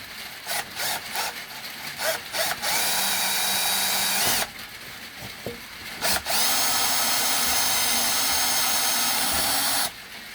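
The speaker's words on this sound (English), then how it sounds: "I will try and drill." A power drill whirs steadily into wood in two long bursts, with short clicks and handling noises before and between them; no talking.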